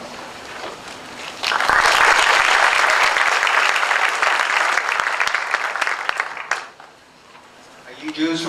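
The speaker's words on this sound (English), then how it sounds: "And you can applaud." A graduation-ceremony audience at a mathematics department commencement breaks into loud, sustained applause that swells after a second and holds steady for several seconds before fading, with a brief renewed burst at the end.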